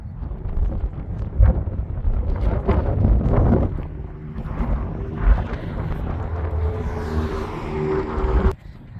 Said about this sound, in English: That wind is kicking.